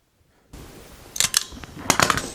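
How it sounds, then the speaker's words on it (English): Scissors cutting fabric linings for an upholstered storage box: after a brief silence, two short bursts of crisp, close snipping, each a quick run of two or three cuts. "What I'm also going to do is cut my linings for my insides."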